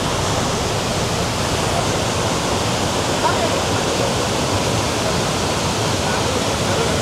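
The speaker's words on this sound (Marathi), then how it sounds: "हा आहे विभूती वॉटरफॉल." Vibhuti waterfall near Yana in the heavy rain season, a loud, constant broadband roar of falling water heard close by, steady throughout with no breaks.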